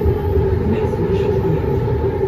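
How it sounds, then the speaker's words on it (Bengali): A steady, loud rumble of a running train, continuous low roar with wheel noise throughout. "এই যে ট্রেনটা ঘুরছে"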